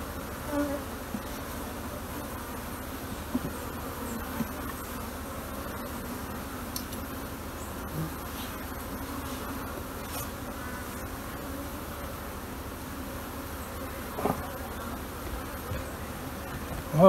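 Africanized bees buzz steadily around a swarm trap, a dense, continuous close-up hum of many insects with no talking.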